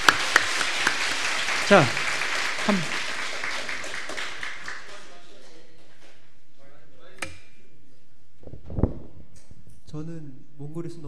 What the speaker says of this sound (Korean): 자, 여러분 앞에 소개합니다. 박수.